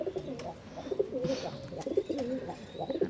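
Pigeons on a rooftop coo softly in repeated, overlapping low calls at close range, with a little faint background noise and no speech.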